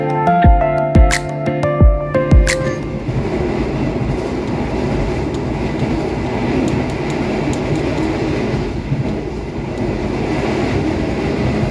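Kertanegara economy-class passenger train running on the rails between Purwokerto and Malang, heard from inside a carriage as a steady, loud rumble with a few sharp clicks and knocks near the start.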